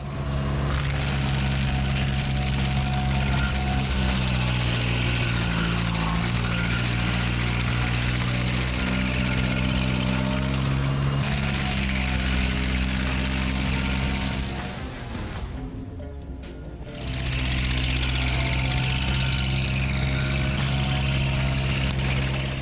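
Engine of a 2800 SP tree stump grinder running steadily and loudly near the listener, a continuous drone with a brief dip around the middle before it resumes; no talk.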